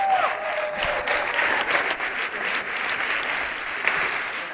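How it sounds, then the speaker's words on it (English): An audience at a women-in-tech forum applauds in a large room, steady dense clapping with a brief whoop early on, continuing at moderate volume throughout. "Can I actually get some cheers and applause to that?"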